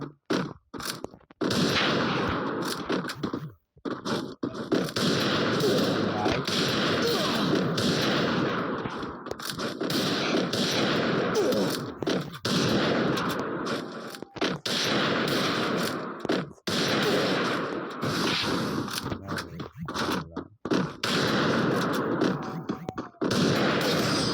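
Free Fire game gunfire: long stretches of dense, rapid automatic shooting and loud blasts, broken by brief silences, close and harsh throughout, with little or no talk.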